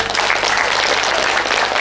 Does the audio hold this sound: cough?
no